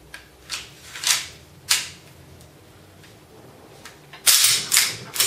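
Slide of a Cybergun KJW Sig Sauer P226 gas airsoft pistol pushed back onto its frame, heard as a few sharp, close clicks and brief scrapes spread out, with a louder cluster of snaps near the end.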